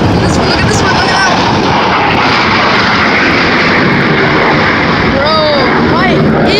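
Blue Angels jets roar overhead at an air show, a loud, continuous, close and harsh thunder that fills the whole stretch without letting up.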